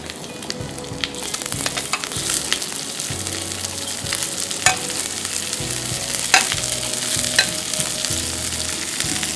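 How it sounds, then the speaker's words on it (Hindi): Vegetables, including onion, spring onion leaves, cabbage and carrot, stir-fried in a hot pan for a Szechuan-style dish: a loud, close, continuous sizzle with irregular scraping and clanking stir strokes and no speech. "अब हम ये वेजिटेबल्स ऐड करेंगे इसमें"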